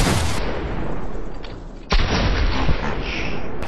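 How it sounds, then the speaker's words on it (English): Gunfire in Fortnite, including a shot through a wall, with a sharp loud crack near the two-second mark amid continuous noisy game sound. "He shot straight through the wall."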